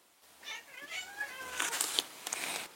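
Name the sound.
cats fighting and meowing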